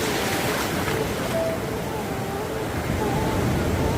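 Morning sea waves rolling onto a beach make a steady, broad wash of surf that stays fairly loud and even throughout, with faint tonal sounds drifting in the background.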